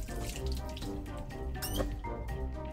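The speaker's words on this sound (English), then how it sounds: "this is rinsing just as quick as it would at your house" Water from a gravity-fed tap rinsing in the kitchen sink of a converted cargo trailer, a close, steady splashing stream with small clatters as something is rinsed under it.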